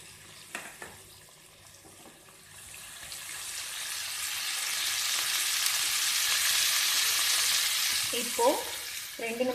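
Cabbage poriyal sizzling and being stirred in a hot pan during home cooking, a steady frying hiss that swells and holds, with a few brief stirring scrapes near the end and no talking.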